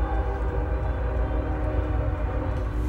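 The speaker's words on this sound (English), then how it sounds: "Sorry about the train, man." A train rumbles past in one steady, loud, continuous roar that fills the whole short stretch, with no voices.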